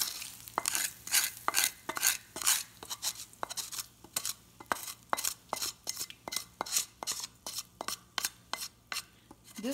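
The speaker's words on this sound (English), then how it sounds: "Now I'm going to add this tadka." A spoon stirs tadka (tempering) into an ash gourd yogurt curry, giving rhythmic scraping and clinking strokes against the vessel in a steady repeating pattern, close and fairly quiet, with a faint sizzle underneath and no talking.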